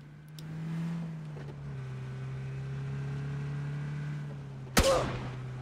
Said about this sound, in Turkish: Araba bağırttırma şu arabayı.